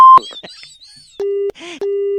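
A phone call is cut off after the caller hangs up, followed by a loud, steady disconnect tone in two long beeps separated by a short gap, with brief talk and noise before it.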